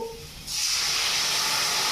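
Water pours into a hot pot of rice, cashews, raisins, bay leaf, ghee, sugar and whole spices for pulao, setting off a loud, steady sizzling hiss that begins after a half-second and keeps going.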